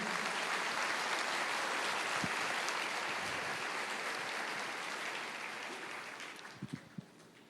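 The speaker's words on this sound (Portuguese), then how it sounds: "Você pode dar uma salva de palmas para Jesus?" A church congregation claps together in sustained, dense applause for Jesus, loud at first and then slowly fading away, with a few final separate claps near the end.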